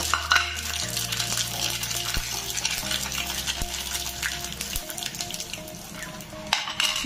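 Bay leaf, cardamom, dried red chilli and whole spices temper in hot oil, a steady crackling sizzle with a low electric hum underneath and occasional metallic clinks and taps from a utensil, close up and without speech.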